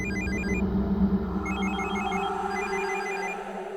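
A telephone rings with repeated high electronic trills in short bursts, steady and fairly loud, over a low background hum.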